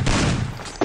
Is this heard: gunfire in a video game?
yes